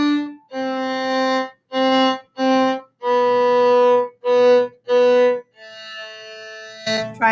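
A bowed string instrument plays a descending line of separate notes, three on D, three on C, three on B, then A, close and clear with no talking.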